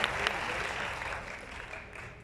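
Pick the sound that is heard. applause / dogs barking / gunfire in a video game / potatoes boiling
applause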